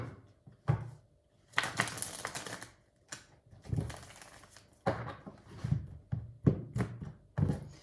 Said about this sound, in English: Normal shuffle.